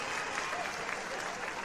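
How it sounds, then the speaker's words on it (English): A large arena crowd cheering and roaring under the lights, a dense, continuous wash of applause and crowd noise at steady loudness with no single voice standing out. "I could hear the crowd cheer"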